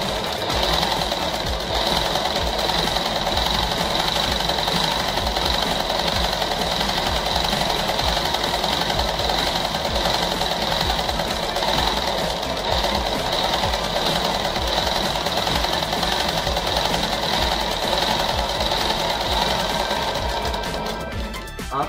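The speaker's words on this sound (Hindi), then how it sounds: "उस तरीके से आप सिलाई फेर दें इसके ऊपर।" An electric sewing machine stitches a petticoat in a steady, continuous mechanical whir with a rapid needle rhythm, running loud and unbroken from start to finish with no voices over it.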